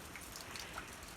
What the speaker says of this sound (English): the rain's become steady now. Slow and steady, but still steady.